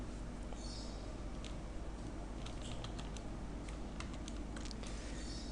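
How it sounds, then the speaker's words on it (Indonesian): Typing on a computer keyboard while entering labels into a Microsoft Access 2007 form, with scattered light key clicks over a steady low background hum. "ketikkan labelnya seperti ini"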